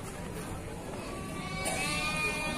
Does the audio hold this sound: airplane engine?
no